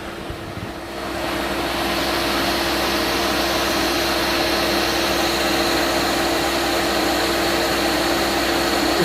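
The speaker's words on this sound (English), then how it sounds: "It's very large DC motor, so you can use it as a battery charger as well." A very large 240 V DC motor rated 2,400 RPM and 200 amps spins up within the first second, then holds a loud, steady whirring hum with a faint high whine on top.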